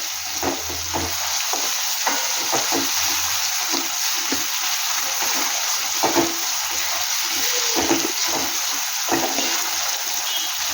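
Onion frying in a pan for a moringa leaf dish makes a steady close sizzle, with irregular soft stirring scrapes and taps throughout.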